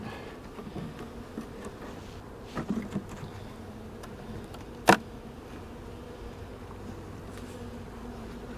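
Honey bees buzzing around two small beehives combined after a swarm, a faint steady drone with a few louder passes and one sharp tap partway through.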